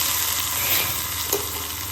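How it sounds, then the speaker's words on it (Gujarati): Hot tempering of chillies and curry leaves poured into kadhi, giving a loud, continuous, close sizzle with a brief crackle partway through. "વઘારને કઢીમાં નાખી દઈશું."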